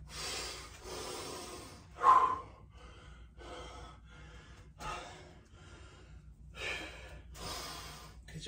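Heavy, labored breaths after an exercise workout, a string of deep audible inhales and exhales at irregular intervals, one sharp gasp standing out, close and without talk.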